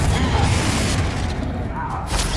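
Confringo blasting spell firing in the Hogwarts Legacy video game: a loud, dense rumbling blast with a sustained low boom and a crackling whoosh across the whole moment.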